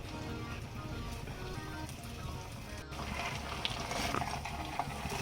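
Malai kofta balls sizzling in hot oil, a dense steady frying crackle that swells louder midway as more balls go into the pan, with no voice over it.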